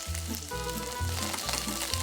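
Chopped garlic and dried red chili pepper sizzle in a pan over low heat, a close, steady frying hiss with soft rhythmic stirring scrapes repeating every half second or so.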